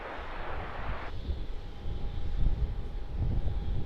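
Virgin airliner arriving from Adelaide and descending to land, a low engine roar mixed with wind noise that swells slightly as it passes, with no talking.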